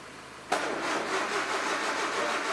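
A 1954 MG TF 1250 engine that has sat unused for years is cranked, with a sudden onset into a steady, fairly loud mechanical churning that runs for about two seconds without catching, close by and with no voices.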